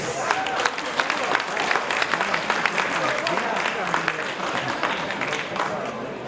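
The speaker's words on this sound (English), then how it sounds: "you all deserve a big round of applause" A crowd at the 32nd International Baba & Nyonya Convention in Melaka claps steadily in a dense, continuous wash of applause that fills the whole stretch, loud and close, with some voices mixed in.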